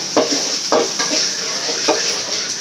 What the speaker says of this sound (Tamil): இப்போ வந்து பூண்டு போட்டுக்கலாம் இஞ்சி போட்டுக்கலாம்